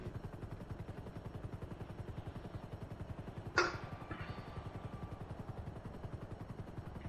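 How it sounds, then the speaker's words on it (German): A helicopter in the video game GTA V Online gives off a steady, rhythmic rotor thumping through the whole stretch, with one sharp gunshot-like crack partway through. "Was ist das für ein Heli?"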